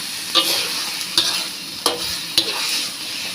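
Beef for a drunken beef stir-fry crackles in a hot wok under a continuous sizzle, with four distinct scraping tosses of the spatula at roughly even intervals.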